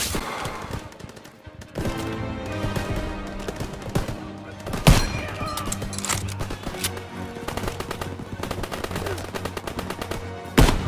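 Machine gun fire in the Call of Duty WWII game, sustained bursts of rapid shots over a busy battle mix with music and effects, with a couple of louder sharp blasts.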